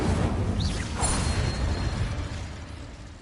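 In Hogwarts Legacy, the Incendio fire spell is cast with a loud, dense roaring whoosh that holds steady for a few seconds and then slowly fades.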